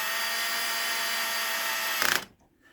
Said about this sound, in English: Now this is on a super low torque setting, so that's why you hear it click a little bit.